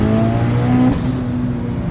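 A Mitsubishi Evo 8 built to 700 whp pulls hard at full throttle, its engine droning loud and close with a steady, slightly rising pitch and no voices over it.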